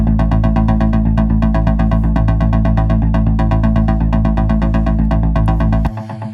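Layered sub bass and mid bass synths in a melodic techno track, with dense, rapidly pulsing low tones and a busy rhythmic synth texture on top, loud and continuous before briefly thinning out at the end.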